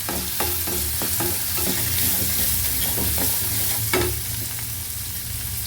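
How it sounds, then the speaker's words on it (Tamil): Steady frying sizzle of garlic sautéing in a pan with repeated scraping and stirring strokes, close and continuous throughout, no talking. "அதையும் போட்டு நல்லா வதக்கிடுங்க."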